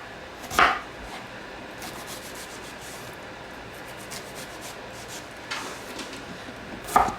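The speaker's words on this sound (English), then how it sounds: "Next we're going to chop our onion" A knife chops an onion on a cutting board for homemade chicken noodle soup, giving a few sharp, isolated cuts spaced seconds apart over a quiet background, with no talking.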